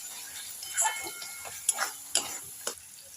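Turmeric and cumin powder being stirred in a pan ahead of boneless chicken pieces: a few scattered scraping strokes of a spoon against the pan over a faint sizzle, quiet and close, with no talking.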